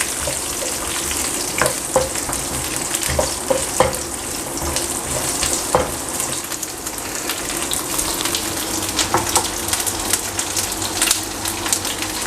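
Cubed carrots and other vegetables sauté in a pan for Chinese chicken Manchurian, with a continuous close sizzle, intermittent stirring scrapes and light utensil taps throughout.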